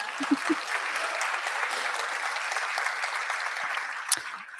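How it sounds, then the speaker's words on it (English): An audience at a speech by Oregon's attorney general breaks into sustained applause, a broad, even patter of many hands clapping across the room, with a few louder individual claps near the start and end. "that's worth applause"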